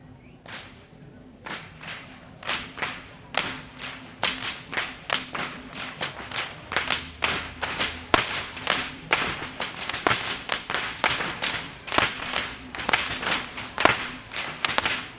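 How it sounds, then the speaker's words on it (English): Whips cracked by whip wielders at the Kandy Esala Perahera procession, a long outdoor series of sharp loud snaps that start sparse and build into rapid overlapping cracks over a faint crowd background. "these whip wielders are the symbolic imagery to depict the sound of lightning and thunder"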